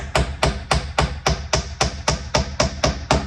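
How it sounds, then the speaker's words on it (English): A hammer taps a wooden plug into a stripped wood screw hole: about ten light, evenly spaced knocks, close by and alone. "you're just tapping it on in with your hammer"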